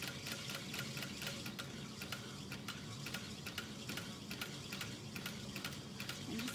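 Sewing machine stitching steadily around the outside edge of a garment at a 4.5 stitch length, a fast even needle ticking with a continuous motor whir, close and alone.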